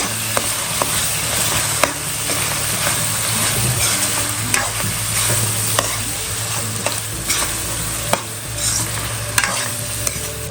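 Onion and coconut masala paste sizzles and fries in a pan for a prawn rice dish, with steady stirring and scraping clicks of a spoon throughout, close and moderately loud, no talking.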